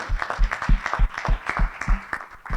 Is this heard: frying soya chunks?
no